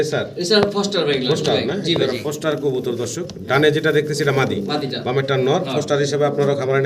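Fancy pigeons for sale, a matched black pair among them, cooing and calling in a dense, continuous chorus close by, layered under steady talk from a man throughout.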